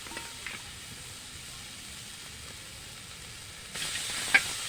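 Crab dropped into a hot pan for a crab biryani gives a steady soft sizzle and hiss at moderate level, swelling louder and brighter near the end with a brief sharp spike.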